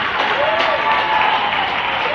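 A church gathering with a pastor breaks into loud, dense applause that fills the room continuously, with voices mixed into the crowd noise.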